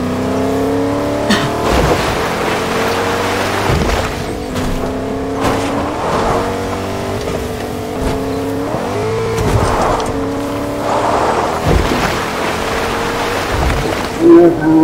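Car engine sounds from the Fortnite video game: a continuous, loud engine drone that rises and falls with repeated revving and shifting, with racing-car tire noise and no clear pauses across the whole stretch.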